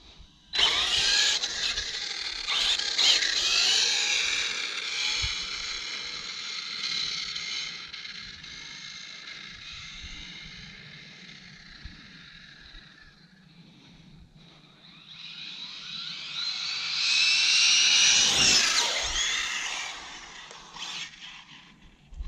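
A stock ARRMA Senton 6S BLX 1/10 short course RC truck on a speed run, its electric motor whining loudly as it accelerates, fading as it moves away, then surging again on a close high-speed pass, with no voices.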